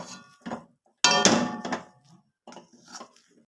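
Rice flour dough being stirred stiff in a pot for chushi pitha, with a few bursts of clanking and scraping of a utensil against metal separated by short pauses.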